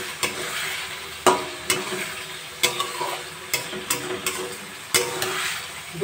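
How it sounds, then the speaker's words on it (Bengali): Potatoes, chana dal and spices stir-fried together in a pan, a steady sizzle under repeated knocks and scrapes of a spoon against the metal, close and fairly loud, with no talking. "এবার আলু, ছোলার ডাল, মশলা সব একসাথে ভালো করে কষিয়ে নেব।"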